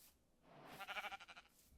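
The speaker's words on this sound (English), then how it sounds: "Yes, sheep." A single wavering sheep bleat from the Minecraft video game rises and falls for about a second, fairly close and clear, with no talking.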